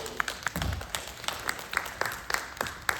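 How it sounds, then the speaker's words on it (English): Audience at a summer symposium gives a light round of applause, sparse distinct claps from a modest group in a room, fairly quiet and uneven. "We just want to give you a round of applause for everybody coming in town."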